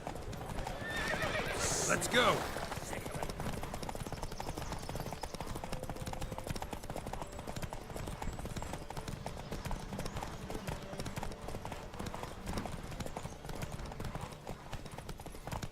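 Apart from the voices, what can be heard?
horse galloping in video game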